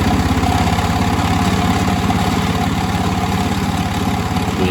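A snowblower engine runs after the choke is set on a cold morning around 5 degrees Fahrenheit, a loud, steady, throbbing idle with a rapid regular pulse and no talking.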